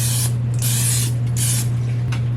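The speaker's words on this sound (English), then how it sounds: "just give this a little spray so that way my dough doesn't stick" Three short bursts of cooking spray hiss onto pretzel dough over a steady low hum, followed by a fainter brief spritz.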